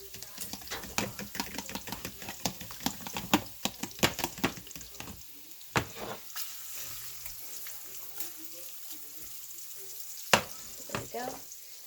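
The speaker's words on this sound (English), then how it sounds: "I'm just gonna whisk this together" A mixture seasoned with salt and pepper being whisked, rapid uneven ticking and clicking of a whisk against a bowl, pausing briefly midway and then resuming in a few strokes.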